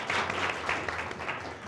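Brief burst of audience applause at a political debate event, many hands clapping steadily at moderate volume.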